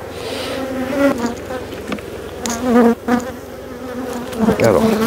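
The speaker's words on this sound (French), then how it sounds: "Alors, là, il y a beaucoup d'abeilles." Dense buzzing of many honeybees, a steady droning hum with individual bees flying close past, no talking.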